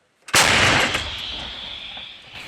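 A single loud, booming artillery cannon blast erupts suddenly, then a long rumbling roar lingers and slowly fades, like a heavy gun firing nearby.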